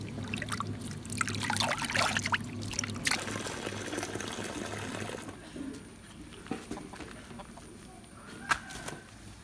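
Tap water runs and pours while fish is washed clean of blood for a village-style fried fish dish, a steady trickle and splash that is louder early on, then thins to intermittent drips and patter.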